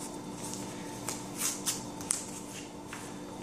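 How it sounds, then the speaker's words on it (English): Packing tape is pulled and pressed to seal a Skycat parachute launcher, giving faint close-up crackles and a few sharp ripping snaps over a quiet hum, with no talking. "Go ahead and tape this."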